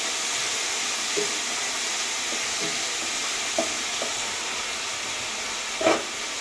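Tomatoes softening in a pan for mushroom gravy give off a soft, steady sizzle and hiss, with a few light clinks of a spoon and one louder scrape near the end, close and without talk.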